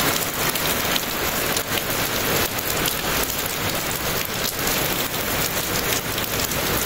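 Heavy rain pours and splatters on surfaces close by, a dense, loud, unbroken hiss with scattered drop impacts and no voices.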